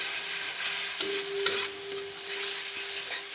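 Okra frying with curd and masala on a hot tawa, a steady close sizzle with a few sharp stirring clicks and scrapes, no talking.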